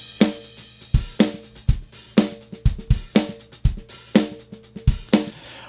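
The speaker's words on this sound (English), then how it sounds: "the drum kit sounds a little bit thin" A thin-sounding recorded acoustic drum kit, played by a skilled drummer, lays down a busy groove of kick, snare and cymbal strokes. The hits are close and clear, with no speech over them.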